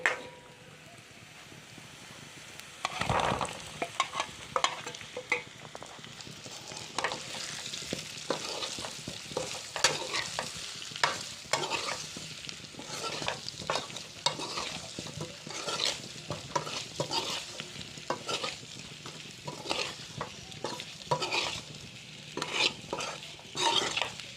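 Boiled potatoes for jeera aloo are stirred in a hot pan, giving repeated scraping, shuffling strokes over a low sizzle. After a quiet opening the strokes run steadily and closely spaced, fairly near and alone.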